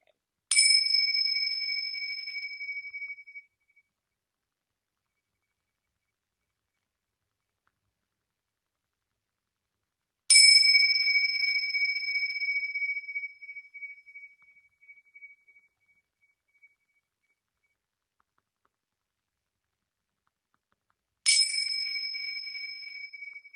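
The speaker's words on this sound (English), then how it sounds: "I'm going to strike the bell 3 times." A bell is struck three times, each strike ringing bright and clear before slowly fading, with long silent gaps in a quiet room.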